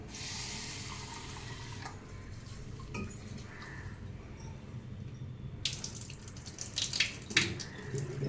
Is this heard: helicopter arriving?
no